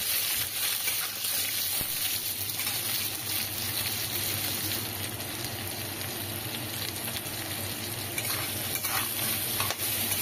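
Chunks of potato and pumpkin sizzle steadily in hot oil in a pan while being stirred. A dense, continuous frying hiss runs throughout, broken by occasional scraping stirs.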